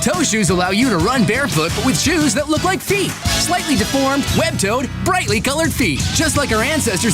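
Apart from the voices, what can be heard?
No everyday noises stand out.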